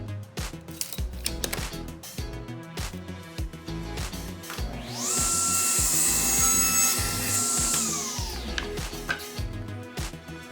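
A hand saw cuts a wooden board to length with rhythmic back-and-forth strokes, close and moderately loud, while a brief whining machine-like tone rises midway.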